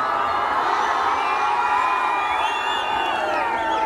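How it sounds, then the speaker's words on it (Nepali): A large crowd at a live folk-dohori concert roars and cheers for the singer, a continuous loud mass of shouting and whoops with some high whistles rising near the end. "एकपटक सबैबाट जाओस् जोरदारसँग ताली"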